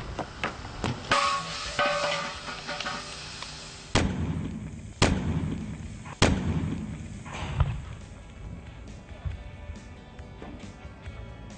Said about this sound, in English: the severe increase in temperature and pressure will cause the tire and wheel to catastrophically